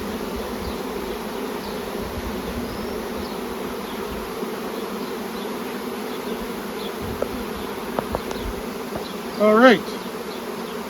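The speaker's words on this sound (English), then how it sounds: "The extra bees will walk in." Honeybees in a queen-rearing starter colony buzz in a dense, steady drone throughout, with one bee flying past close and loud near the end and a voice briefly speaking.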